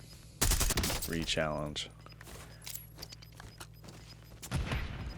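Call of Duty Warzone solo battle royale in Verdansk: a rapid burst of close gunfire at the start, then scattered quieter shots and movement under someone talking, with one more burst near the end.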